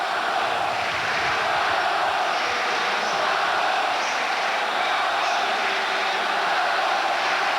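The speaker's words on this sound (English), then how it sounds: "the crowd starting to chant for their hero, Chisco Marcos" A stadium crowd at a 1991 World League of American Football game chants for a hometown player. It sounds like a steady, massed roar of many voices that carries on evenly throughout, with faint rhythmic swells.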